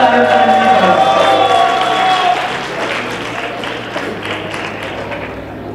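Applause and cheering rise from an audience at a youth club event after a performer is called to the stage, a crowd wash of clapping that follows sustained musical tones and gradually softens.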